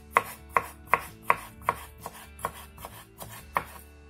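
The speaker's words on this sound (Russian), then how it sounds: "Теперь мелко нарежем 2 маринованных огурчика." A knife finely chopping pickled cucumbers on a board, with about eleven evenly spaced, crisp cuts in a steady rhythm, close and clear with no talking.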